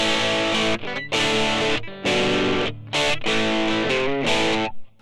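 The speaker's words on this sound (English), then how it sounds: "I have the amp on a crunch channel and it sounds like this." Electric guitar through a Blackstar ID Core V3 amp on its crunch channel, strummed chords ringing out in several bursts with short gaps between, gritty and bright, close and loud with no talking.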